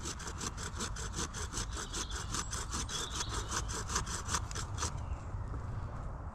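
A handsaw cuts notches into a wooden pole for a poncho shelter, a fast, regular back-and-forth rasp of about two dozen strokes, close and loud, stopping abruptly near the end with a low engine-like hum beneath.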